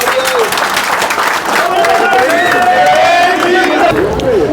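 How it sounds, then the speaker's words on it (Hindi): Crowd applause and cheering for kabaddi star Vinay Khatri at a village Faag festival gathering, a steady loud wash of clapping with shouts and voices carrying over it throughout. "एक बार विनय खत्री के लिए जोरदार तालियां प्लीज"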